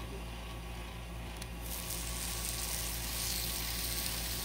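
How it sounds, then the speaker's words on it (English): Bacon frying on a Blackstone griddle over medium heat, giving a steady, soft crackling hiss that grows slightly brighter partway through. "back to cooking on the griddle. Bacon."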